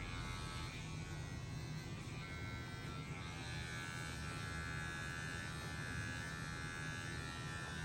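Electric hair clippers buzz steadily and quietly while lightly trimming a man's hair, a constant motor hum throughout with no talking.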